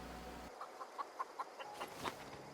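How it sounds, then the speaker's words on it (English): A rooster in the video game The Outer Worlds gives a quick run of about eight short, clipped clucking calls, moderately loud and close, over quiet game ambience with no talk. "Is that a fucking rooster"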